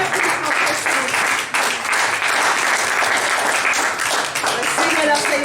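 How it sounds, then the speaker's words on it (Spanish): A church congregation applauds steadily in a dense, continuous wash of clapping that holds at an even, loud level throughout, with a voice faintly present beneath it. "Dale una prueba de palmas a Dios"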